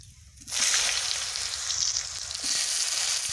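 Eggplant hits hot oil already seasoned with five-spice and asafoetida, bursting into a sudden loud sizzle after a quiet half-second, then frying on steadily and close with a continuous crackling hiss.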